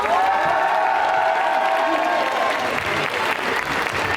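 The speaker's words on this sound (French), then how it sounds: "Je vous demande un tonnerre d'applaudissements pour la première fois à Geek Life" A festival audience at Geek Life in Laval gives a dubbing actor sustained, dense applause, loud and continuous throughout, with a host's voice faintly underneath.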